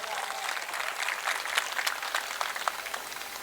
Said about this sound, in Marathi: एकदा जोरदार टाळ्या वाजवून आपण